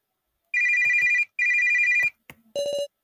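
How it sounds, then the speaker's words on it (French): A telephone rings in the video game Your Turn to Die, two long electronic ring bursts followed by a click and a short chirping tone, clear and alone with no talk. "Un téléphone?"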